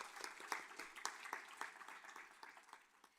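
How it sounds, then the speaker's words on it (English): A school board meeting audience applauds a school chamber music ensemble, a faint, distant patter of many hands clapping steadily and slowly thinning out. "Another round of applause."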